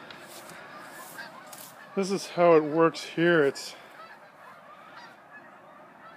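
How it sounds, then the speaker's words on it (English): Several loud goose honks ring out in a short burst overhead, with someone speaking briefly before them and quiet outdoor ambience around. "It's a nice band of geese flying over."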